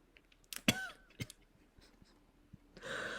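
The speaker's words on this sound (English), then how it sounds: "I had to cough" A single sharp cough from a person, close and fairly loud, with a throat-clearing sound and some breathing around it in an otherwise quiet room.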